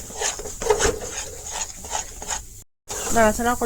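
A peanut sweet mixture being stirred and dried in a pan, a repeated scraping, rasping rub of the spoon against the pan at close range, with someone speaking over it and a brief dropout near the end.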